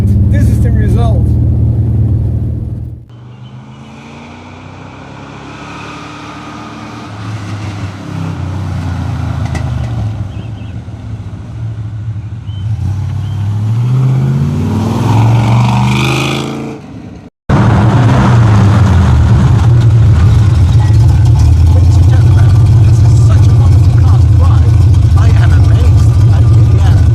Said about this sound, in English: the car is really loud